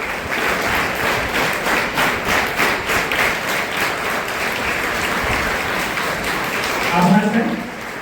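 An audience at a high school celebration of International Mother Language Day claps together in loud, sustained applause for a guest, steady and full for about eight seconds, with a voice briefly audible near the end.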